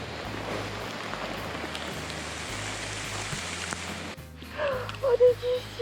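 Steady rain falls on the Pinhoti Trail while backpacking, a soft continuous hiss, followed at the end by a few close voices.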